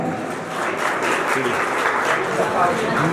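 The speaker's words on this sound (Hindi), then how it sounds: "उसके बाद कलाकार आ जाए मेहताब वीर, जोरदार तालियों के साथ" Audience applause at a school alumni meet as a performer is called to the stage, steady clapping from a crowd with a voice speaking over it through much of the clip.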